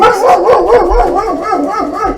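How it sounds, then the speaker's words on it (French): A dog barks and howls loudly and close by in a rapid string of yelps that melt into wavering howl-like cries, with no talking over it. "vous avez même droit aux aboiements du chien"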